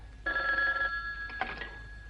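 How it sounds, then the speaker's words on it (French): An old-style telephone bell rings indoors in two bursts, a long steady ring followed by a shorter one after a brief pause, clear and fairly close with no talk over it. "Répondez au téléphone."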